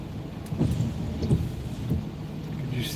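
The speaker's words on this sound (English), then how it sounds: "Oh well, here's the rain." Rain sets in with low, rolling thunder, a steady hiss of rainfall under soft rumbling swells, moderately distant and without speech.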